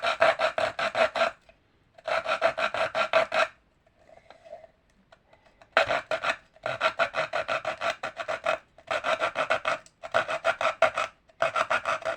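Hand saw cutting through wood in long rasping strokes, several bursts of steady back-and-forth sawing separated by short pauses, close and loud with no talk.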